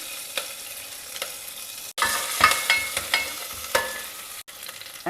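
Chopped garlic, ginger and curry leaves sizzle and crackle in hot ghee, with a steady frying hiss broken by sharp spatters and scraping stirs, one brief pause midway, no voices.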